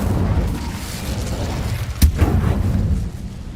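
An Incendio fire spell is cast in Hogwarts Legacy, a single sharp whooshing burst that erupts over a low rumble of ambient game sound and then fades away.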